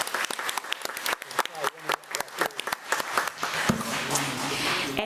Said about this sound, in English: Let's give Ms. Ramirez another round of applause.